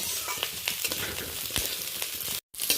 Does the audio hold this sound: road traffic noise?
no